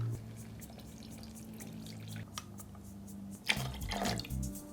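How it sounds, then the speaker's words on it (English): Lime juice is squeezed by hand into a small glass. It makes soft trickling and dripping sounds over a low background hum, rising to a brief louder splash near the end. "I need 3/4 of an ounce of lime juice, so I'm just going to squeeze that into my little glass here."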